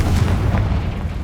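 A Confringo spell explodes in Hogwarts Legacy, a loud deep boom with rumbling low-end weight that rolls on for about a second, standing alone without voices.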